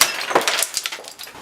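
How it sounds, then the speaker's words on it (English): Candy glass bursts under an air ram, a crisp shattering with a rapid spray of tinkling, crackling fragments that stays loud for about a second and a half. "this is candy glass with air ram"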